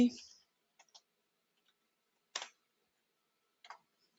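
A few sparse, crisp keystrokes on a computer keyboard as a disk-partitioning command is typed, with isolated taps spread apart and a brief voice at the start.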